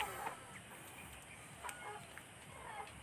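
Chickens in a rural yard pen cluck faintly against steady background noise, brief scattered calls throughout and no talk.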